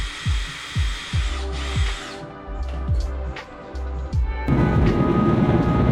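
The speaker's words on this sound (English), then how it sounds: "So I used this wire brush wheel drill attachment." A drill spinning a wire brush wheel scrubs leftover rust off the rear brake parts of a 2011 Toyota Highlander. It gives a steady, harsh whir that runs the whole time, with repeated short bursts and a rougher, denser grinding stretch near the end.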